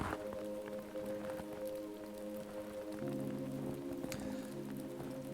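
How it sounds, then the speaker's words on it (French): Gentle rain pattering steadily on a surface from a relaxation app, blended with soft squishy footfalls in snow, a low sustained tonal drone underneath, quiet and continuous. "On va par exemple prendre les gouttes de pluie, on peut également régler le volume, et pourquoi pas rajouter des pas dans la neige."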